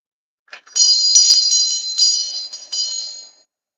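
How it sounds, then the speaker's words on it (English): A small hand bell rings loud and close, struck in several quick shaken bursts that carry for about three seconds before fading out in a quiet room. "Where my bell at? Where my bell? Hold on."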